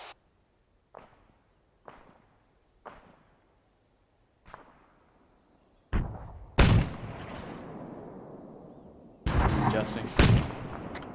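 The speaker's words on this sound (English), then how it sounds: "Mortar's firing on us." Mortar rounds firing and impacting during a combat engagement, a series of sharp distant thumps spaced about a second apart, followed by several loud, close blasts with long rumbling decays.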